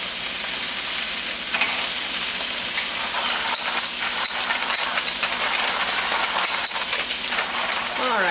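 Onions sizzle steadily in a pan while being stirred, with a constant hiss of frying, light scraping and occasional metallic clinks from the utensil, close and continuous.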